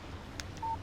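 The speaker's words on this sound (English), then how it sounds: "Text message from Barry." The phone in the video game Alan Wake plays a brief text message alert, a couple of quick soft clicks followed by a short clear electronic beep, alone over quiet background hiss.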